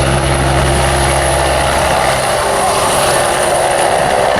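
A Westland Scout helicopter in an air display at RAF Cosford, its loud continuous rotor and turbine drone holding steady close by, with a low throbbing that thins out partway through.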